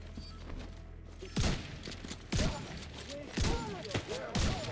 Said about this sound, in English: Alright, let's give the shotgun a try